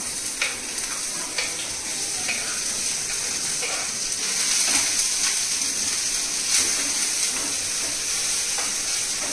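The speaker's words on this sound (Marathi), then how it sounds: "आता हे घे आता चॉपिंग बोर्ड घे आणि ह्या नाईफच्या हेल्पने टाक कांदा." Chopped onion hitting a hot pan for dahi bhindi, setting off a loud, steady hissing sizzle with occasional scrapes and taps as it spreads; no speech.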